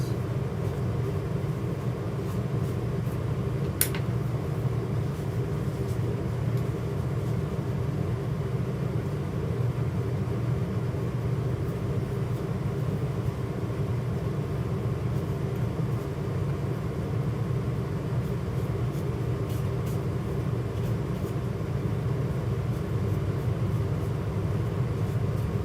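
A truck passes outside as a low, steady rumble that holds for the whole stretch, muffled and fairly distant, with no talking.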